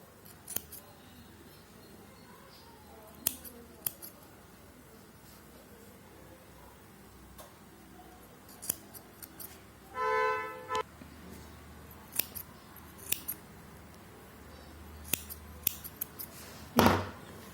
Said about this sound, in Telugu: జరీ థ్రెడ్ ట్రిమ్ చేసుకున్నాము.